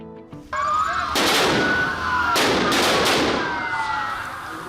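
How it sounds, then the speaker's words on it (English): Stun grenades and tear gas launchers fired by police breaking up a march of students and trade unions in Quito, Ecuador: several sharp loud bangs close together followed by a long roaring, hissing burst that fades out. "Police used tear gas and stun grenades to break up a march by students and trade unions in the capital Quito"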